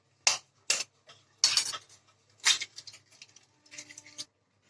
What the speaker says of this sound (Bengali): সেই ফাঁকে আমি দুটো ডিম ফেটিয়ে রেডি করে নিচ্ছি